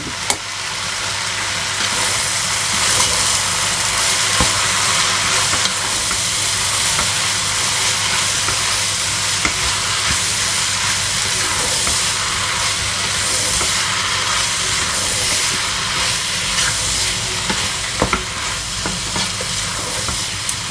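Fresh tomatoes and tomato paste sizzle in a hot pan for chakchouka, a steady loud hiss and crackle that runs on continuously, with occasional scrapes as the mixture is stirred.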